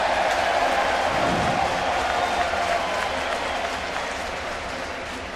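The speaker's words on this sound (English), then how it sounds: "You never heard such cheering." A large baseball stadium crowd roars and cheers in a loud, sustained wash of noise with clapping mixed in, easing off slightly toward the end.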